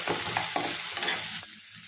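Cinnamon and cloves fry in a pan for chicken sambar, sizzling steadily while a spoon stirs and scrapes in light, irregular strokes.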